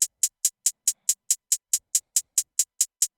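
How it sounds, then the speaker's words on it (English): Fifteen crisp, evenly spaced hi-hat hits in a two-step pattern programmed in FL Studio, bright and dry, alone with no talk. "typically hi-hats are played on a two-step pattern"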